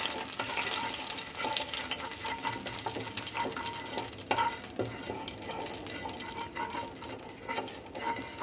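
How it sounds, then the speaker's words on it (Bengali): Rohu fish pieces coated in salt and turmeric frying in oil, a continuous dense sizzle and crackle held close and steady throughout, with faint clattering underneath and no voices. "আমি নুন হলুদ মাখানো মাছগুলি ভেজে নেব"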